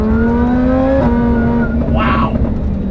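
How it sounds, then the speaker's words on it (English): A supercharged Lamborghini Huracan with a VF900 kit and VF exhaust revs loud and close, its engine note climbing hard, dipping briefly, then surging again in a sharp rasping snarl. "And now with this VF exhaust, it's certainly louder"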